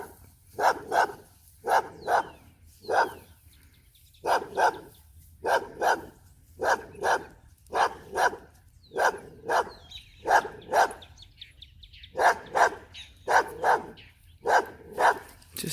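A neighbor's dog named Blondie barks again and again in short bursts of one to three barks, fairly close and loud, with brief pauses between them and no talking.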